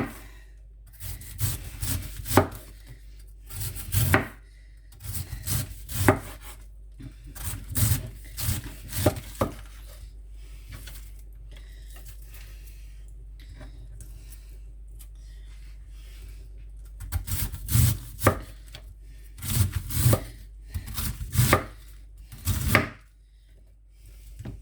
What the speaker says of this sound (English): Let's chop it up nice and small.